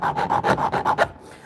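Quick series of about seven rhythmic rasping file strokes sharpening a chainsaw chain, close and fairly loud, ending in a short quiet tail with no voices.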